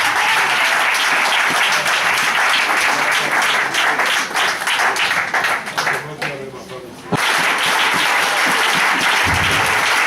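Loud, dense applause from a church congregation at a Sunday service, steady for several seconds, dipping briefly before surging back, with voices mixed into the crowd noise.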